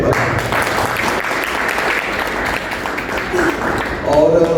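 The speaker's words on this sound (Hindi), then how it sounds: "तो जोरदार तालियां एक बार।" Loud, steady applause fills a room at a company celebration and training event, with many hands clapping together near and full, and a voice starting to speak at the end.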